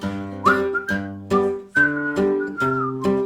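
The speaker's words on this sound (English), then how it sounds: "The whistling is optional." A person whistles a simple tune alone, clear and close, in a series of distinct phrases with short breaths between them.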